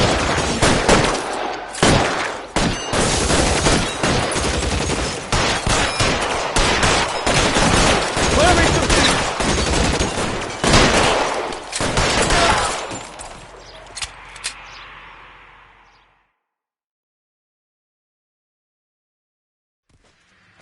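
Sustained video-game gunfire in a PS4 shooter, with loud overlapping automatic bursts and single shots for about fifteen seconds, then fading into near silence.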